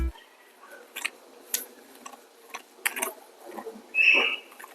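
A surgical ratchet clicks in short, irregular bursts during a hands-on neurosurgery resident workshop, with close, crisp mechanical ticks and one brief squeak near the end, faint voices in the background.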